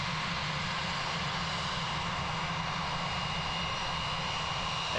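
A Sounds Air airliner moves along the runway at Christchurch Airport, its steady engine roar and propeller drone holding constant and fairly distant throughout, with no voices.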